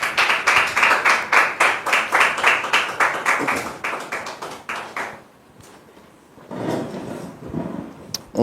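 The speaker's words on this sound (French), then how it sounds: "Merci de recevoir sur ce plateau Dame Déborah et Christ Ivan sous vos applaudissements," A television studio audience welcomes two guests onto the set with loud, rhythmic clapping in a steady beat. It stops after about five seconds, leaving faint room sound and a brief murmur.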